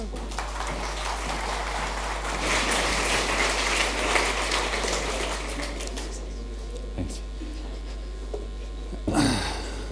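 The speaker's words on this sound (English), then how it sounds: "please give Daan a very big applause so that he can make his parents proud" Applause from an audience at a live event, loud and continuous for about six seconds before thinning to scattered claps and small bumps, over a constant low hum.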